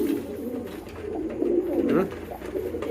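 Pigeons coo in a steady, low, rolling murmur close by, the throaty calls overlapping continuously, with a faint voice in the background.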